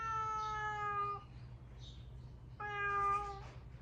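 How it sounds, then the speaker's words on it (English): A relaxed cat at a guest house in the fishing village of Oshima, Fukuoka, gives two clear, drawn-out meows about a second apart, close and prominent over quiet background hum. "Check out this cat."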